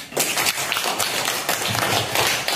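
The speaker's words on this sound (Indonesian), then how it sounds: "Bagus sekali, tepuk tangan anak-anak." Schoolchildren in a classroom clap together in a brief, fairly loud burst of quick, uneven claps lasting a couple of seconds, no talking over it.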